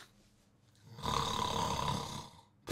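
A single drawn-out snore, likely a voice imitating snoring, rises abruptly and rumbles for about a second, moderately loud and close, then cuts off into quiet.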